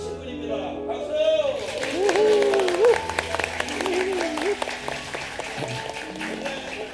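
An audience in a church hall breaks into applause for a stage reading, a dense patter of clapping that builds and carries on under a speaker's amplified voice and music.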